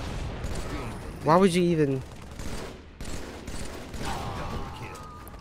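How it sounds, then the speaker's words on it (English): Bursts of automatic gunfire rattle at a bubble shield in a Halo 3 MCC multiplayer match, loud and clustered near the middle of the clip, with a voice talking over the game sounds. "he really shot the bubble shield, expecting it to, like, pop"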